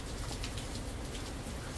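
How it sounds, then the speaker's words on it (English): Soft, steady rain falls in the background, a continuous even patter of drops with no talking and no other sounds. "A peaceful rain in the back is nice."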